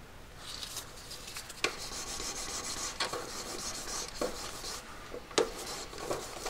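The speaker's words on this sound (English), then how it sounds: "I can use it to buff things nicely with a disc" A double-sided paper disc buffs a cast metal ring, giving a faint, steady rasping and rubbing sound with occasional sharper scrapes, close up and without speech.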